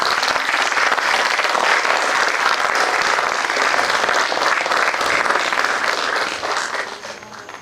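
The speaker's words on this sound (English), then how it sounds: "We should welcome our esteemed guests with a round of applause" An audience at a criminal justice research event gives the guests a dense round of applause. The clapping stays loud and steady for several seconds and then fades toward the end.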